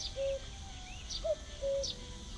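Birds chirping in the video game The Night of the Rabbit, a few clear whistled tones and brief high chirps spaced over a soft ambient background, no talk.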